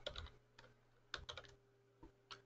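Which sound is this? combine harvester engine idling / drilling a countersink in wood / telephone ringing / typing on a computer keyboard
typing on a computer keyboard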